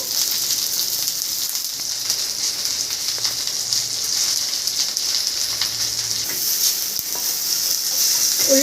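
Garlic cloves fry in hot oil in a pan with onion and green chillies, giving a continuous bright sizzle that crackles steadily and stays close and even, with no talking.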